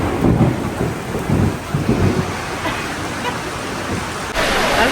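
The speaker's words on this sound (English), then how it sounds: "it just started thunderstorming really bad, so kind of stuck under the shelter" Heavy Florida rain pours steadily while rumbles of thunder roll underneath, heard from beneath a shelter at a zoo as a constant close wash of noise.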